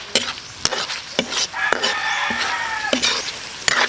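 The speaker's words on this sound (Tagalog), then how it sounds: "Tuloy lang natin yung paghalo-halo." Spicy dried beef innards sizzle in an oily pan as a spoon scrapes through them in repeated sharp stirring strokes over a constant close frying hiss.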